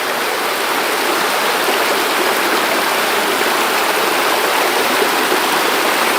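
River water rushing steadily along a river in a shrimp-trapping spot, a loud, unbroken roar of flowing current from start to finish, with no talking.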